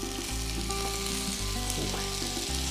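Cherry tomatoes sizzle in warm olive oil in a hot skillet, a steady close frying hiss running the whole time under a low background hum, with no talking.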